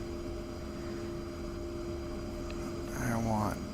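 An A-10C jet taxis in the DCS flight simulator, its engines holding a steady whining hum, with a brief rising and falling tonal sweep near the end.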